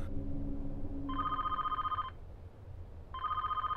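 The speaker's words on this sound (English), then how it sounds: "we heard the sound of a phone ringing in the security room" A telephone rings in a security room in the video game 428: Shibuya Scramble, giving two electronic ring bursts about a second each with a pause between, faint over a low background hum.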